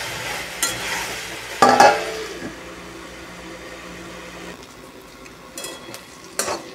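Food fries in a pot as a spoon stirs it, the lid lifted and set back between stirs; soft sizzling runs underneath a few louder clanks of utensil and lid.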